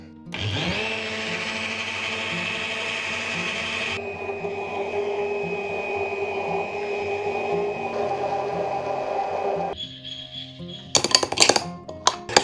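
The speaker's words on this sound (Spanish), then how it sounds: "Ahora lo vamos a volver a batir." An electric mixer whisks a homemade dandelion and aloe shampoo mixture, a loud steady whirring that shifts pitch a few times before cutting off, followed by a few clinks of a spoon against the container.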